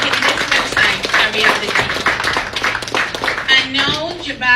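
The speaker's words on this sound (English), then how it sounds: "a round of applause" An audience at an official website launch event applauds the statistics staff with dense, steady clapping that continues for several seconds, loud and close, and then tapers off.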